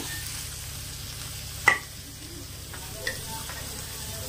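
Paneer frying in masala in a pan makes a quiet, steady sizzle, broken by one sharp metallic clink of a utensil and a softer tap later, no talking.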